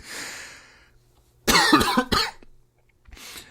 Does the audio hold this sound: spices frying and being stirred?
no